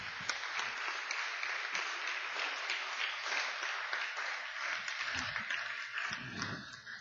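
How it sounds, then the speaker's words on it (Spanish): A congregation at a church service breaks into sustained applause, a dense, even wash of clapping that stays moderately loud throughout. "Denle un gran aplauso al Señor."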